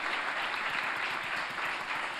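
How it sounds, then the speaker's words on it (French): Steady, dense applause from an audience at a molecular gastronomy lecture, continuous and fairly loud throughout without breaks. "Je vous propose de l'applaudir, parce qu'il est courageux."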